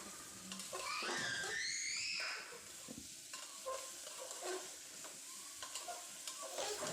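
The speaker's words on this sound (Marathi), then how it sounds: "आता वांगी आपण अगदी चांगली परतून घेऊया" Fresh tender eggplant sautés in a pan with a soft, even sizzle, punctuated by a few stirring scrapes and light clatter, with a brief squeaky whine early on.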